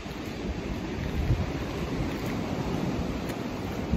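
Strong wind roars steadily on a farm during a February storm, buffeting the microphone with constant broadband rushing and low gusty rumble, no talking.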